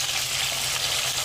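Cumin seeds sizzling in hot oil in a kadai for kadai paneer masala, a steady bright hiss that stays loud and close throughout, with no voice over it.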